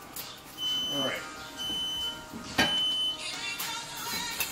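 Smoke alarm beeping in a home kitchen while oxtails braise in red wine: a piercing high electronic tone sounding in three separate beeps, under sizzling and household noise.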